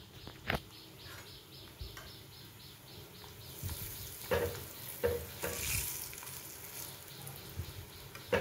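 Badi fry in hot oil with a soft, steady sizzle, broken by a few sharper crackles and stirring knocks, fairly quiet, with faint bird calls in the background.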